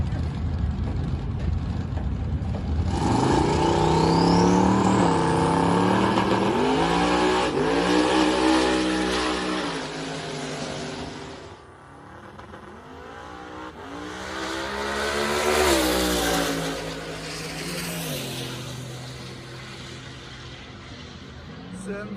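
A twin-turbo Mustang drag car makes a full pass at the strip, its engine roaring loud and rising through gear changes, then fading and surging again as it runs down the track.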